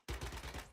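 Gunfire from the online survival shooter Once Human, a short close burst of rapid automatic shots with a ragged rhythm lasting under a second, with no talking.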